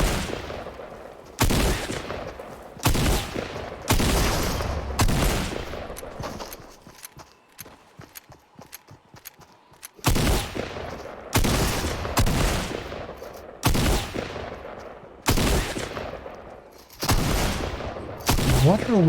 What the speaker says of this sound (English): He's intentionally shooting off.